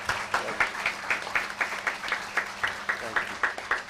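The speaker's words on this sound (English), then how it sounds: "Let's give him a heartfelt round of applause." Audience at an education society function gives a round of applause, steady rhythmic clapping at moderate distance, evenly paced beats over about four seconds with faint background voices.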